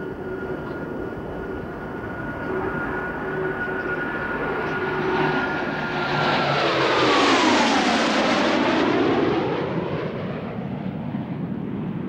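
Six US Navy Blue Angels jets in delta formation sweep past at about 400 mph, a rising roar that swells to a loud, close pass with a falling Doppler whine, then recedes.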